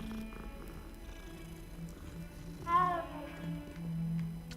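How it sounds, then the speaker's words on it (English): A cat in the video game Hogwarts Legacy lets out a short meow while being petted, followed by soft low purring over a quiet background hum. "Oh, you can pet the cat."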